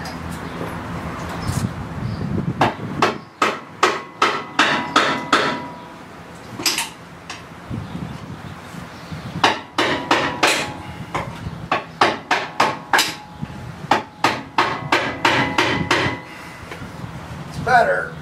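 Hammer striking a big chisel to pry during a Rough Country lift install on a Ford Bronco 2.5, sounding as a long series of sharp metallic blows, some in quick bursts, others spaced apart.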